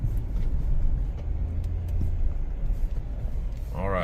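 A Lexus LX570 rolls along the road with a steady low engine rumble and road noise from inside the cabin. A voice cuts in briefly near the end.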